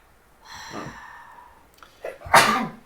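A single close sneeze: a drawn-in breath followed by a sharp, loud burst.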